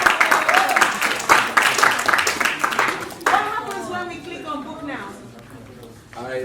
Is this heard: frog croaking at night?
no